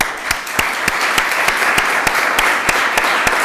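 Sustained, loud applause from an audience at a scientific innovation conference of OSI Bilbao-Basurto, a steady wash of many hands clapping with a few sharper individual claps standing out.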